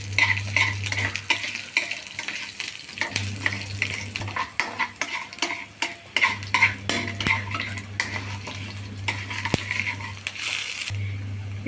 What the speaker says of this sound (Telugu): ఇవన్నీ బాగా కలబెట్టుకోవాలి.